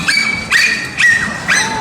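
A dolphin in a SeaWorld San Diego show gives four short rising whistle-squeaks at a regular pace, each bright and close, with no talk over them.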